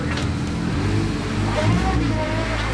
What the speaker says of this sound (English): First, give it a little bit of gas.